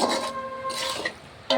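Spatula scraping and stirring fish frying in a pan, short rasping strokes with a sizzling hiss, close and moderately loud, no talking.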